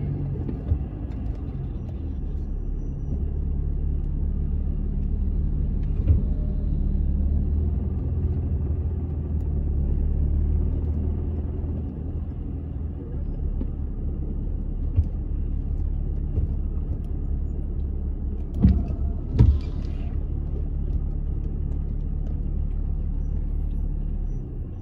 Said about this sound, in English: literally stuck in the traffic, you're not going nowhere.